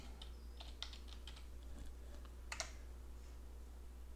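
Computer keyboard typing while editing a photo, a few short light clicks and a quick burst of keystrokes, faint and close over a steady low hum.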